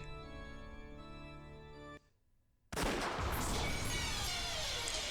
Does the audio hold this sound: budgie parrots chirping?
no